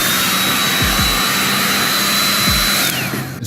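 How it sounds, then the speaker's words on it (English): An Andis blow dryer drying hair in a barbershop gives off a loud, steady rushing whir with a high whine, running close and continuous with brief low thumps before it winds down at the end. "Step 2, we're gonna blow dry the hair. Right here we have the Andis blow dryer."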